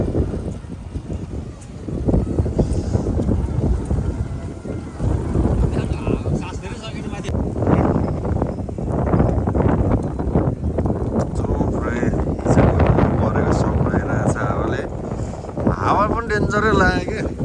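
Strong wind blows across a frozen lake, buffeting the microphone in a continuous loud roar with gusty surges. People talk intermittently over it.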